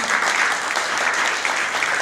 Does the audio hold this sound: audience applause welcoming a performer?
yes